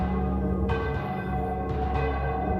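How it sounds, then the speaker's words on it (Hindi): Bells ringing steadily through a haunted mansion at night, a sustained ringing drone with repeated strikes swelling and fading, heard alone with no voices. "घर में घंटी की आवाजें गूंज रही थी,"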